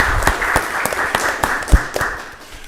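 Applause at a Rockdale County Board of Commissioners meeting, scattered hand claps sounding from a modest room crowd, fairly near and thinning out toward the end.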